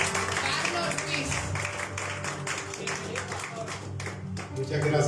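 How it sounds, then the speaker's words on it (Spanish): Audience applause greeting a speaker at a church gathering, steady clapping throughout, with a voice speaking over it. "vamos a recibirlo con un fuerte aplauso"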